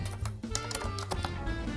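Quick, uneven clatter of keystrokes on a computer keyboard during a live online chat, with dense clicks running throughout over a busy background.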